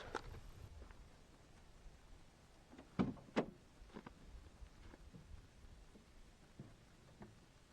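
The rear doors of a 4x4 Ford Transit camper van open with a couple of sharp latch clunks close by, followed by faint rattles and shuffling against a quiet background.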